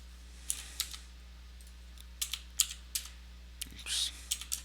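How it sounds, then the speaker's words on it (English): Close, quiet keystrokes on a computer keyboard, a short irregular burst of clicks with a brief quick run of taps near the end, over a low steady hum. "let's type that in."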